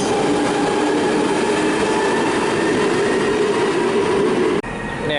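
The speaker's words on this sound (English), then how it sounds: "here's a southbound Northern Line service departing from Melbourne" A southbound London Underground Northern Line train pulls out of the station platform at Bank, a loud steady rumble and roar that holds throughout before cutting off abruptly near the end.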